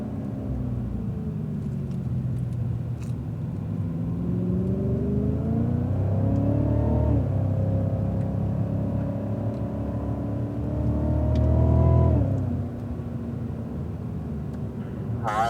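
A Cadillac CTS-V accelerating hard out of a corner on a race track, its engine climbing steadily in pitch through the gears, loud and close, then easing off for the next hairpin.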